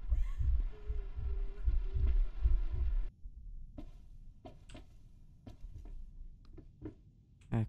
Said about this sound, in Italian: Guarda come sento il cuore che batte.